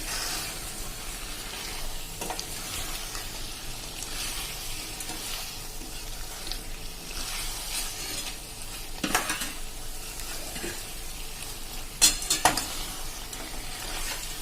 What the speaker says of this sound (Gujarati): હવે આપણે સ્લો થી મીડિયમ ફ્લેમ ઉપર આ બધું આપણે મિક્સ કરી લેશું.